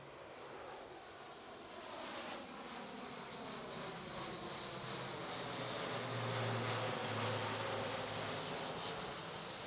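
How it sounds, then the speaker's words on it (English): An Airbus aircraft makes a flyby at the Farnborough International Airshow, its engines a broad distant roar that swells slowly and steadily across the whole stretch, with no talk over it. "So that is going to be a flyby."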